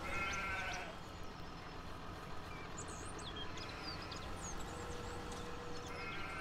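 Sheep in the Farming Simulator 17 video game bleat steadily beneath a constant low game hum, a clear close bleat at the start and fainter calls after it, no speech.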